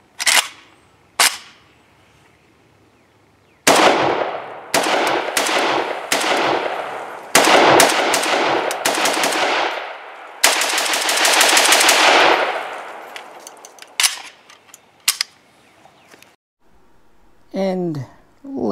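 A Romanian AES-10B RPK rifle fires its last full magazine at close range: loud rapid bursts and clusters of shots separated by short silences, ending with a few scattered shots.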